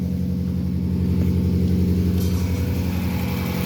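Mazda 3 gasoline engine idling roughly and misfiring just after starting, a close, loud rumble with an uneven, stumbling pulse throughout.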